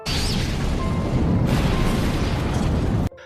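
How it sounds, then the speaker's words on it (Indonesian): A loud, roaring explosion in a film that rumbles on for about three seconds before cutting off abruptly. "Ledakan pun terjadi"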